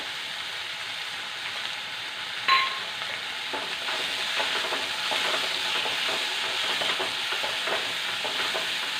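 Curry leaves dropped into hot oil for a Kerala-style mango mappas curry, a sudden sharp crackle followed by a steady, close, dense sizzle that holds through to the end with no voices.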